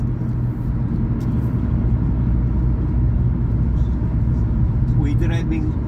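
Car cruising north on a sunny road through Port Orange, Florida, with a steady loud interior rumble and road drone throughout, someone talking over it.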